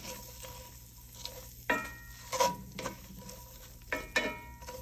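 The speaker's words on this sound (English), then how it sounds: "you want to add them to your buttered pan. Give them a quick stir." Sliced leeks stirred in a buttered pan, a few scraping spoon strokes and light clinks against the pan over a soft sizzle, close and fairly quiet.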